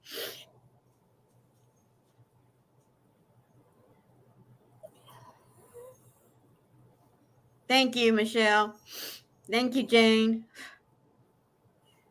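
One short, sharp sneeze at the very start, then near silence, followed later by people talking.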